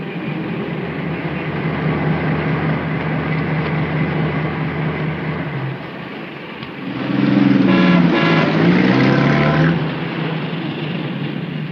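Steady car traffic rumbling across a bridge, a continuous broadband road noise with a louder vehicle passing close by midway, the wash swelling and then easing back.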